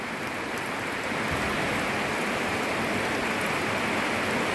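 Steady rain pours down in a constant, dense hiss, even and unbroken throughout, with no voices.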